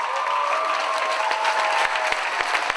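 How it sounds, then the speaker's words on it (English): An audience applauds the winner of the Surrey's Got Talent show, steady dense clapping from a large crowd with faint cheers, a few louder claps standing out near the end. "give her a big round of applause, everybody"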